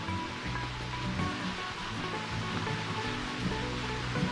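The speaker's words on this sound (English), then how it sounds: "There's a small waterfall as it comes down from the rocks into a nice little pool." Steady, gentle rush of a small waterfall splashing down from rocks into a pool in a gorge's moss garden, a continuous soft roar with no voices.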